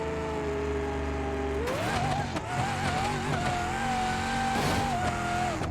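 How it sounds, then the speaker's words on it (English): A car in a racing video game lets out a sustained, wavering high-pitched brake and tire squeal over a continuous engine drone, loud and close, holding steady for several seconds after a sudden onset. "brake wheel sound are new too. Yeah, brake squeal."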